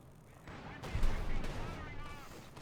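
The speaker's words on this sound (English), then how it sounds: "Field gun shooting away there" A field gun fires in the Company of Heroes 2 strategy game, a few booming artillery shots under a caster's commentary voice, moderately loud and blending into battle noise.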